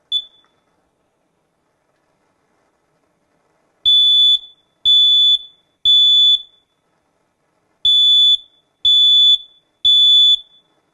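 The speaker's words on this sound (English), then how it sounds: "I'm going to simulate unattended cooking by pressing the smoke detector." A smoke alarm gives one short chirp, then after a pause sounds six loud, piercing high beeps in two groups of three, each beep sharp and identical.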